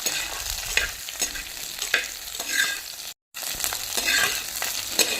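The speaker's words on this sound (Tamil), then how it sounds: "காய் வந்து நல்லா வதங்கி வைக்கணும்." Okra and other chopped vegetables sautéing in a pan, a continuous close sizzle broken by repeated scraping stirs and a brief dropout of silence partway through, no voices.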